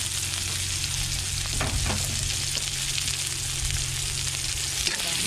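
Onions sizzle and fry steadily in a hot pan, with continuous crackling hiss close by and occasional stirring scrapes, before wild duck meat goes in.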